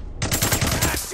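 Rapid automatic gunfire from the video game Days Gone, a loud close burst of repeated shots lasting about a second.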